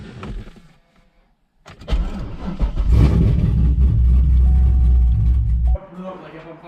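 An LS-swapped Nissan 350Z drift car cranks and fires up, settling into a loud, rumbling idle close by after a short quiet pause, with a person talking before it catches.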